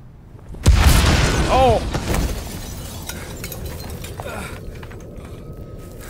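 A loud, deep boom from an explosion inside a hotel in the video game Mafia Definitive Edition, followed by a long rumbling decay with debris and mechanical rattles, and a voice briefly calling out.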